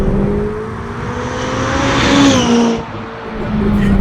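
A McLaren 570 GT accelerates hard, its engine note climbing steadily, dipping briefly at a shift, then rising again. Loud and close, with road and wind roar underneath.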